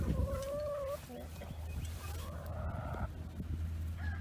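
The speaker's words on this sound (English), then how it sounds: "like the rest of the chickens, they're mostly jailbirds." Chickens and other fowl call from inside a farm enclosure in springtime, with a few clucks and drawn-out gobbling notes at moderate distance over a steady low rumble of background noise.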